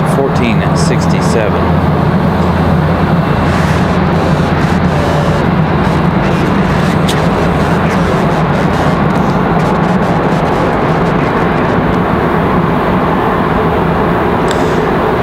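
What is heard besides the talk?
Southwest Airlines jet airliner approaching the airport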